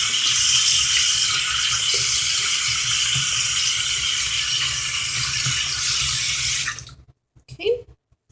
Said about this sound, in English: So I'm going to go ahead and rinse her hair out.